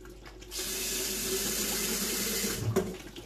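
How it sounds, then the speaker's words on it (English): Kitchen tap water runs into a sink to wash fish for cooking Ofe Oha, starting after a brief quiet moment and then pouring steadily and fairly loudly, with a small clatter near the end. "So I'm going to just put a little bit of water just to wash my fish with it."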